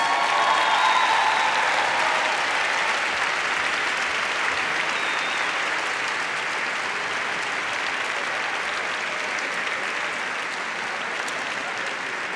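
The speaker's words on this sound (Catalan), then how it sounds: "un fort aplaudiment per tots" A large audience at a university graduation ceremony applauds the new graduates, a long, even, sustained roar of clapping that fades slightly over time.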